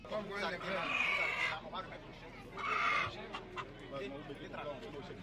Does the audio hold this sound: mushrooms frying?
no